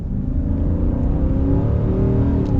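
A 2022 Ram Power Wagon with a 6.4 Hemi and an 8-speed automatic accelerates: a loud, steady engine drone with a deep rumble and rising harmonic tones. It is heard from close by, with no talking.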